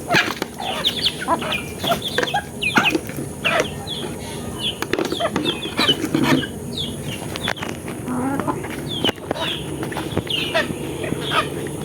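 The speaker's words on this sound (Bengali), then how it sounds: "মুরগিগুলাকে খাবার দিতেছি সকালবেলা।" Desi laying hens clucking and flapping their wings at morning feeding on a small backyard farm, busy overlapping calls and wingbeats close by with no talk.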